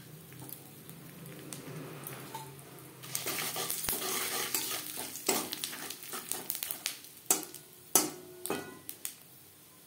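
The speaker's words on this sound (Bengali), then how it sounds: "ফোড়নে দিয়ে দেবো 5 ফোড়ন তেজপাতা।" Panch phoron and bay leaf tempering in hot oil in a kadai just used for frying eggs, a quiet crackle that swells into louder sizzling with spoon and pan clinks near the end.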